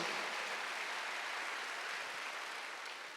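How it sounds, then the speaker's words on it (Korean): A church congregation at a Wednesday worship service claps together, a steady, even wash of applause at moderate distance, unbroken and without voices, tapering slightly toward the end. "박수."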